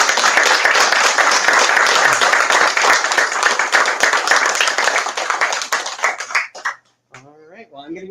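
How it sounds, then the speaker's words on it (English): Audience at a bookstore-style author event for a debut horror novel gives a loud, close round of applause, dense clapping that thins out and stops after about six seconds, followed by a brief voice. "Let's have another giant round of applause."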